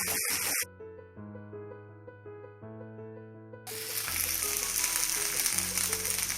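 Onion, garlic and ginger fry in a pan for a Kerala-style chicken curry, a steady sizzle rising in the second half of the clip, with musical tones running underneath throughout.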